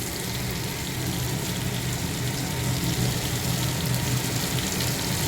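Cauliflower and potatoes frying in spices in a pan, producing a dense, even sizzling hiss that holds steady and close for the whole stretch with no voices.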